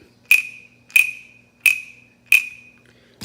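A handheld cricket-imitating percussion instrument gives four sharp, evenly spaced chirps with bright ringing tails, loud and close with no voices.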